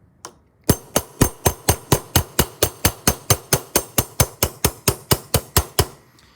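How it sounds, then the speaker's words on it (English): A ball peen hammer strikes a copper rivet set into aluminium, about twenty sharp metallic blows in a steady, even rhythm, close and loud, with no talk. "I'm going to continue to hammer the rivet down a bit, first with the flat side of the ball peen hammer"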